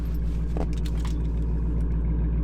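Steady low engine rumble from an idling Dodge Challenger R/T and a Mazda Miata close by, a continuous drone with a faint rattle partway through.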